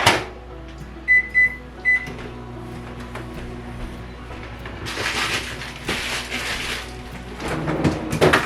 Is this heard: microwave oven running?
yes